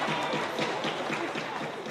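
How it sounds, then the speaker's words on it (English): A room full of young women at a parliamentary leadership sitting applauds and bangs on tables, a dense, rhythmic patter of claps and thumps running throughout with voices mixed in. "we must give Tashana Sewell a special round of applause"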